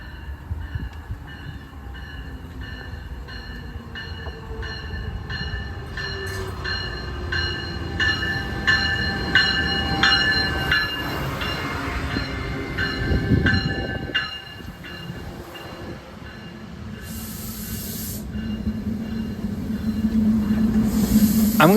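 A commuter train on the Sharon Hill to Wilmington line rumbles and squeals along the rails with a hissing brake, a horn-like tone midway, and the rumble building louder toward the end.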